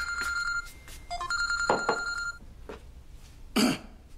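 A telephone rings in bursts of electronic trilling, broken by a cough and brief vocal sounds, fairly quiet in an indoor room.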